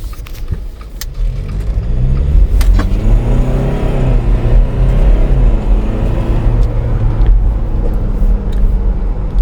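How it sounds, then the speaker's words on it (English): A jeep engine revs loudly and steadily up close, a deep rumbling roar rising and falling with occasional clicks over the drone. "taking the Jeep for one last drive before we had to return it, and make sure we're getting some good sounds out of it"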